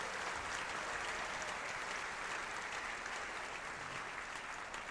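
A church congregation applauds in praise after a choir performance, a continuous, even wash of many hands clapping that sounds somewhat distant and holds at a constant level throughout.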